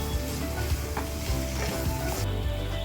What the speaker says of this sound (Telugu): ఈ మొత్తం ఇందులో కలిసే విధంగా బాగా ఫ్రై చేసుకోవాలి